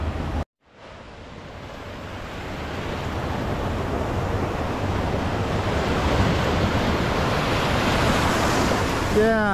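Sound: ocean waves at Hampton Beach

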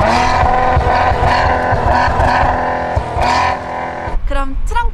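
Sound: sports car exhaust note

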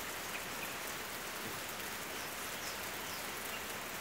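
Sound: rain falling

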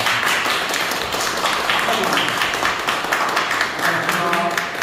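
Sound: applause and clapping for an art association member

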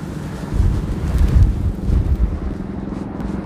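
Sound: wind

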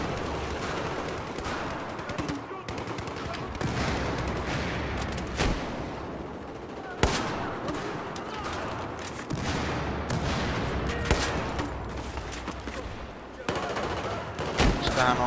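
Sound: gunfire in video game Battlefield 4

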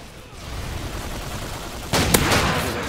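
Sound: Model 1887 shotgun firing in Call of Duty video game

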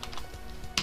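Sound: typing on a computer keyboard

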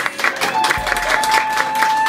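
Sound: applause at anniversary party

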